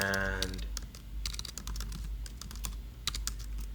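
Rapid, uneven keystrokes on a computer keyboard clatter close by for almost four seconds. The clicks come in bursts with short pauses, and a brief voice fragment is audible at the very start.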